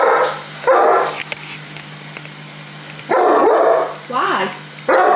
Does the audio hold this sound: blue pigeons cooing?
no